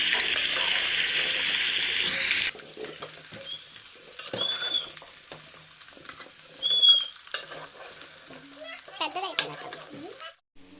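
Cut, peeled raw mango pieces drop into hot oil in a kadai, a loud sizzle at first that quickly settles into soft frying hiss with scraping and stirring sounds, close up.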